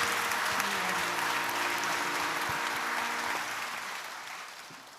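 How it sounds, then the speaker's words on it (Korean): A Sunday worship congregation applauds to bless a newborn, a full room of steady clapping over a faint sustained organ-like tone, tapering off near the end. "우리 새 생명 박수로 축복하시겠습니다."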